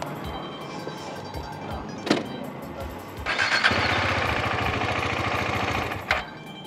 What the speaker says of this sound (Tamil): என்னடா வண்டி ஆஃப் ஆகுது, பெட்ரோல் இல்லையாடா